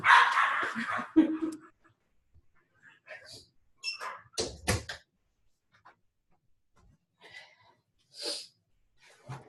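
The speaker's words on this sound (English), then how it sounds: "Are the dogs really loud in the background?" Several dogs kept indoors bark and yip in short, scattered bursts during a call, fairly close and moderately loud, with quiet gaps between outbursts.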